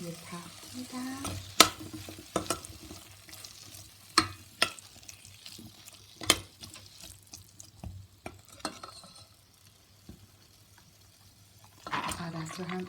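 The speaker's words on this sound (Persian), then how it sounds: "سیب زمینی خرد شده رو اضافه میکنم، یه تفت میدم" Chopped potatoes sautéing in a pan for red lentil dal, a steady low sizzle broken by sharp, irregular stirring knocks and scrapes, with a voice talking at times.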